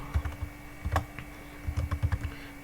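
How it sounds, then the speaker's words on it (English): Bursts of quick keystrokes on a computer keyboard, close and clear, in two short runs separated by a pause, with no talking. "So I just type"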